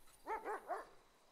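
A dog in a role-play video game gives three quick, evenly spaced barks, close and clear against a quiet background.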